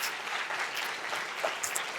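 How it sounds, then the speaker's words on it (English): Audience applause after a talk at a film event, a steady dense wash of many hands clapping at moderate distance, fairly even throughout with no voices standing out. "a round of applause for that."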